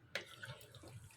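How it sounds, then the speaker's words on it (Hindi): Water pours into a cooking pot of chicken karahi with yogurt and spices, a short splashing gush that starts abruptly and runs briefly at close range. "1/4 कप पानी ऐड करेंगे और इसको कवर कर देंगे।"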